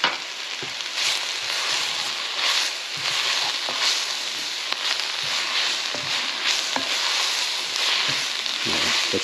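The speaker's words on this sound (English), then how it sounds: "Okay, so I'm going to add our garlic." About two cloves of garlic fry in a pan with curly dock greens and bacon: a constant loud hiss and crackle, close up, with occasional spatter pops, no talking.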